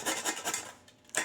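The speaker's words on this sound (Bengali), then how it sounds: "এই যে এরকম করে ঘষে নিতে হবে।" Fresh papaya is rubbed against a grater for a plastic chutney served at weddings, giving quick rasping scrapes in a short back-and-forth rhythm, close and clear.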